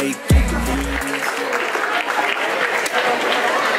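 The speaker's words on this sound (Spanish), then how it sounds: "que se escuchen esos aplausos, aplausos, gente de Cuautla" Crowd applause at an LGBTTTIQ+ pride march in Cuautla, dense steady clapping right after a brief low thump, loud and continuous throughout.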